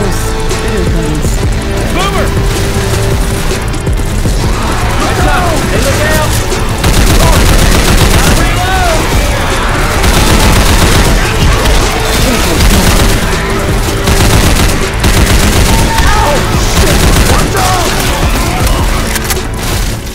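Gunfire with incendiary ammo in Left 4 Dead 2, a video game: dense, continuous loud shooting with booms and crackling, layered with game effects and heavy throughout.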